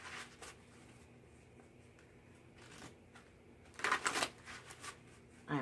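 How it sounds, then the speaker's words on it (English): Soft riffling and flicking of tarot cards being shuffled, quiet at first, then a louder burst of several quick shuffles near the end. "can't see me shuffling, but hopefully you can hear it"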